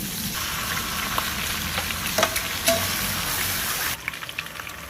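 Sliced bitter gourd (ampalaya) sizzles and crackles steadily in a hot pan of sautéed aromatics, with a few sharp spatula clinks and stirring scrapes over the continuous frying hiss.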